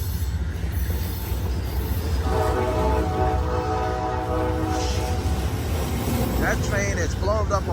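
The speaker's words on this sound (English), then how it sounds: "That train is blowing up a horn show." Amtrak California Zephyr train sounding a loud, sustained horn at a station, the long blast rising over rumbling wheels and rail noise with a brief squeal near the end.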